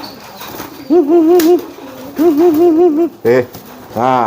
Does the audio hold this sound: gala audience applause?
no